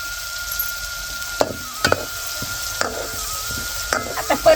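Fenugreek leaves sauté in a pan with a soft constant sizzle, broken by several distinct scrapes and knocks of a spoon stirring against the metal.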